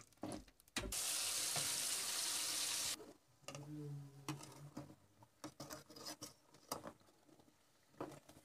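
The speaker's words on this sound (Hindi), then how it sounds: "आलू डाले हैं मसाले के साथ, भून जाएंगे।" Potatoes with spices for a Kerala fish recipe hiss and sizzle steadily for about two seconds, followed by quieter scraping and stirring clatter.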